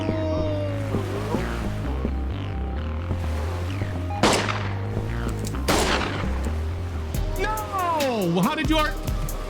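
Revolver gunshots fire in the video game Schedule I as sharp, separate cracks spread across the stretch, with game effects and other sounds between them.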